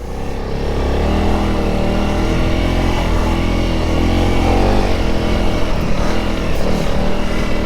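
A Honda CRF 300 Rally motorcycle ridden through sand in second gear, its engine droning loud and steady with continuous throttle and no pauses.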